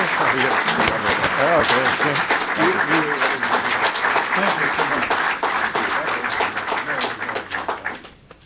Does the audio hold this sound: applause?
yes